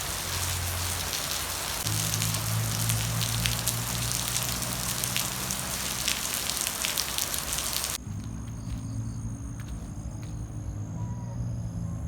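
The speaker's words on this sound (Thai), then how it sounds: "คือพายุเมื่อกี้ฝนตกหนักมากอะ่ะ" Heavy storm rain during summer pours down steadily, a dense hiss drumming on surfaces throughout, loud and close.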